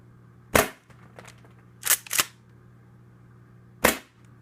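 A Tokyo Marui Breacher M870 HPA airsoft shotgun fires four sharp, loud pops nearby, one alone, then two in quick succession, then a final shot after a pause, with no voices.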